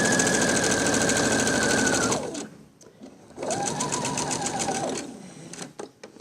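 Sewing machine stitching a ball-shaped coin purse, two close, loud runs of rapid mechanical whirring and needle clatter split by a short pause as it stitches backward then forward, ending in faint clicks.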